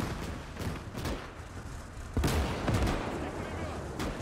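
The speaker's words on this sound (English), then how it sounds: "Getting zapped there from a Pack 40." Gunfire and heavy booms in a World War II battle in Call to Arms: Gates, including a Pak 40 anti-tank gun firing, with repeated sharp shots and a louder impact partway through under busy battle noise.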